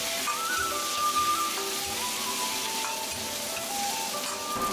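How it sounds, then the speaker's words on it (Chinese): Dried chilies, Sichuan peppercorns, ginger, scallion and garlic stir-frying in hot oil in a wok, a loud, steady close sizzle running unbroken throughout with faint scraping underneath. "下干海椒和花椒，呛出香味，再下姜葱蒜"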